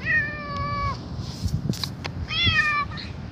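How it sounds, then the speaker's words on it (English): A friendly cat meows twice up close, two drawn-out rising and falling cries separated by a brief pause, over low background rustling and room noise. "Oh, she's a very nice cat."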